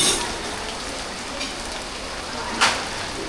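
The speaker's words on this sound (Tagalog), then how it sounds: "It's raining." Steady rain falls outside on a Singapore evening, a dense even hiss with a few louder drops and splashes, close and fairly loud with no talk.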